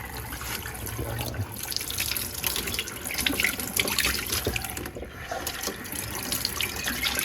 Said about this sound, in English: I'm gonna wash the eggplant. Just gonna rinse them off first